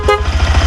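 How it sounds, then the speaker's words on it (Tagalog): A weak vehicle horn gives a single short, thin toot near the start, over a steady low engine rumble. "Mahina ng busina, nabutol."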